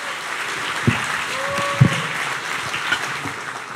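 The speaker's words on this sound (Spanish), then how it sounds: "Let's give Jesus a round of applause." Steady wash of clapping from a church congregation, continuous and moderately loud throughout, with a couple of sharper thumps standing out.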